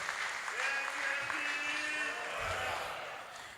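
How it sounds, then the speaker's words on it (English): A conference audience at an association's international meeting and AGM applauds steadily in a large hall, a soft, even wash of clapping with a voice faintly heard alongside. "Please, a round of applause for Ambassador."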